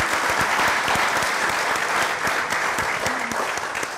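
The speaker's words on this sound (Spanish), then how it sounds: "Un aplauso, por favor, para Alberto" A seated audience at a talk on nature and the future applauds a speaker being introduced, giving dense, steady clapping throughout, loud and close with no pauses.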